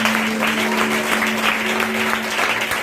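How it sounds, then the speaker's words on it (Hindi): Loud, sustained clapping from a worship congregation praising Jesus, dense and steady throughout, with a steady tone humming underneath. "यीशु के आदर के लिए, यीशु की महिमा के लिए जोर से तालियां बजाएं।"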